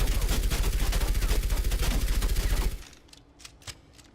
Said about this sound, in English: You're going to see that gun recoil.